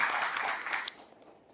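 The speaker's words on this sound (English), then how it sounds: "So please give a full round of applause for" Applause from the audience at an educational conference in Pune, a brief burst of clapping that quickly thins and fades away within a second or so, with no talking over it.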